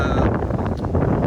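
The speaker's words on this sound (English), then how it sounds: "ooh, it's windy" Strong wind buffets the microphone outdoors at a Florida lawn-care property, a loud rumbling roar with gusty fluctuations throughout the short stretch and no talk.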